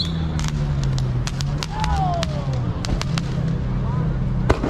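Fireworks crackle and pop at a nighttime car meet in NYC, sharp scattered bursts over a low idling engine drone, with a car sliding nearby.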